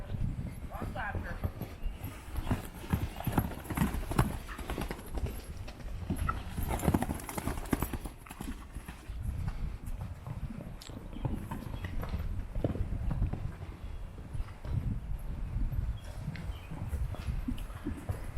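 Horses clip-clopping across a farm while being turned out to pasture in spring, hooves beating in an uneven, continuous rhythm at close range, mixed with rustling and occasional voices nearby.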